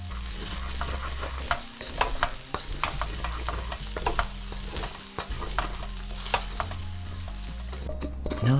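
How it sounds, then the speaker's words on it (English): Spicy Spam fried rice with eggs sizzles in a hot pan while being stir-fried, with a steady frying hiss and repeated close scrapes and knocks of the spatula. "keep cooking it till that white rice turns brown"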